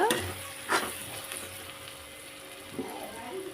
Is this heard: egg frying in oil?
yes